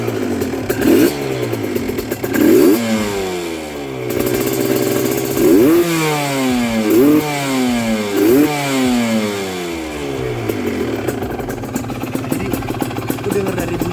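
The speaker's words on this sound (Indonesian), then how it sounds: "Dengar dari bunyinya aja, ini motor udah garang banget" An Aprilia RS 125 sport motorcycle with about 25,000 km on it starts and is revved repeatedly, the engine pitch sweeping up and falling back in a series of sharp, loud throttle blips over a steady idle.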